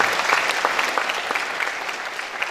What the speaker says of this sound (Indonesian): Tepuk tangan bagi Tuhan kita dulu.